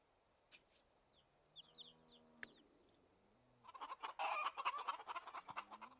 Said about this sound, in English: Look at the baby chickens.